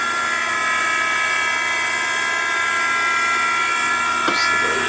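A Henderson precision trimmer trims 30-30 brass cases with a steady, high, whining motor drone that holds loud and unbroken throughout. A brief scrape of metal cuts in near the end.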